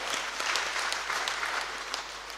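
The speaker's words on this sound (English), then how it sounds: "please clap for yourselves for being available" Soft, scattered clapping from a small group at a mental wellness talk, fairly distant and low in level, continuing steadily for a couple of seconds.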